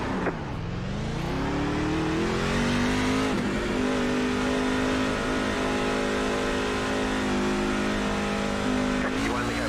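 A NASCAR truck in the iRacing sim at Pocono Raceway, its engine dropping low and then climbing into a loud, steady, droning acceleration that carries on unbroken through the rest.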